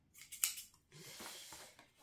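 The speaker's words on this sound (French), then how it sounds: "moi je prends ma paire de ciseaux qui est là" A pair of scissors snips through paper while a craft explosion box is being made; a few short, crisp cuts and a sliding rasp come close and quiet, with no talk.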